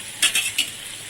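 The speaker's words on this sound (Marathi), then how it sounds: "थोडंसं फ्राय करून घ्यायचं, म्हणजे फिश करीला चांगला टेस्ट येतो" Small fish sizzling on a hot tawa for fish curry, a steady soft crackle of frying broken by three quick scraping stir strokes, close by with no talk.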